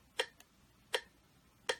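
A metronome ticks a steady beat, three crisp, evenly spaced clicks with a faint softer tick between the first two, quiet and close with no talking.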